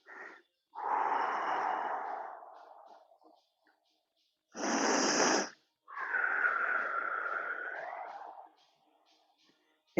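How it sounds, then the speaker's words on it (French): Deep, forceful breaths during a guided breathing and stretching exercise, several long airy inhalations and exhalations with pauses between, close and breathy, no speech over them. "On inspire très fortement."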